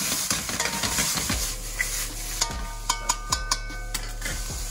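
Minced beef and celery sizzle in a hot pan with a splash of stock, a steady frying hiss under repeated scrapes and taps of a spatula, close up.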